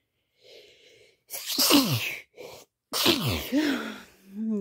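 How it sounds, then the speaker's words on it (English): A person sneezes loudly up close, a short wheezy build-up followed by two sharp, explosive bursts with a brief gap between, then a softer exhale trailing off. "Ooh, sneeze."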